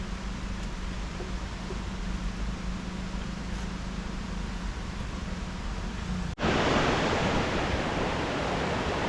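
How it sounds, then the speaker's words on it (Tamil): Waterfall with water flowing down nearby, a steady broadband rushing roar throughout that jumps suddenly louder and brighter partway through. "பக்கத்துலேயே ஒரு அருவி, கீழே தண்ணி வந்துக்கிட்டு இருக்குது"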